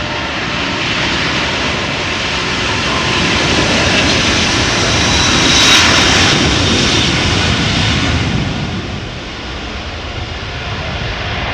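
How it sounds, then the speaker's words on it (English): An Airbus A330-900neo jet departs Amsterdam Schiphol, a broad, steady engine roar that builds slightly and then eases off as it climbs away. "compare it to the A330-900neo to New York JFK"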